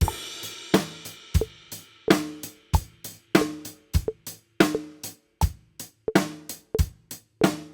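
A drum kit played against a metronome with the timing drifting off the click, giving a steady run of sharp, loud hits with ringing decay, close and alone with no talk.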